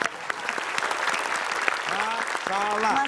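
An audience claps steadily and fairly loudly at a comedy show, while a voice speaks over the applause near the end.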